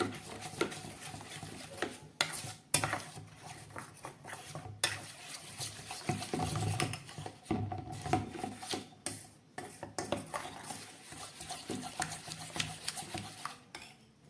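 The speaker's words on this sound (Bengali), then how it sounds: "খুব ভালো করে আবার এটাকে মিশিয়ে নিচ্ছি।" A spoon scrapes and stirs a cauliflower curry seasoned with coriander leaves and crushed black pepper in a pan, producing continuous close rubbing and occasional clinks against the metal, with no voices.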